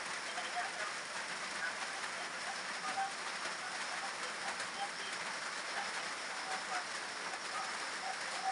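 Steady rain falls and patters on a surface in an even, continuous hiss, moderately loud with no break, heard from a hut in a garden plot.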